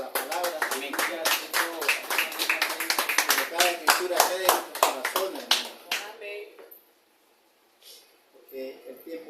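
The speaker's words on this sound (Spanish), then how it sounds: "Un aplauso a la palabra." Congregation at a church service bursts into rhythmic clapping, loud and close, for roughly six seconds while someone speaks over it, then the hands stop and he keeps talking briefly.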